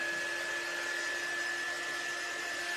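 A hair dryer drying a craft project runs steadily at a constant pitch, a continuous whining blow with no pauses or talk.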